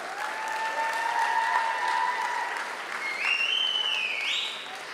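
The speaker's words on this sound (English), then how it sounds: "Let's have a big cheer for him as well." A live audience at an arts and film showcase night cheers and applauds for an upcoming performer, a steady wash of clapping with rising whoops and shouts, moderately distant.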